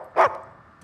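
A single sharp dog bark from the video game Uncharted 4, fairly loud and close, followed by quiet game ambience and a faint second yip near the end.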